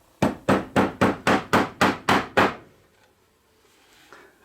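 Nine evenly spaced hammer blows drive a wooden upright into a snug dado joint during a paint gun stand build. The strikes are loud and close, followed by near silence.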